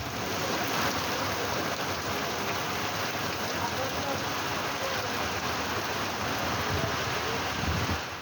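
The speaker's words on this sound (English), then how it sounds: "Torrential rain" Torrential rain pours down in a steady, dense hiss of heavy drops, continuous and even throughout with no break.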